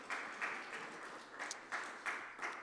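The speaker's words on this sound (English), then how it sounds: "Let's give a round of applause for Margari Hill." Applause from an audience, a steady patter of clapping with a few louder swells, fairly close and without any voices.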